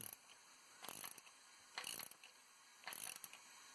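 Valve spring tool being cranked on an LT1 engine, three bursts of close ratcheting clicks separated by short pauses.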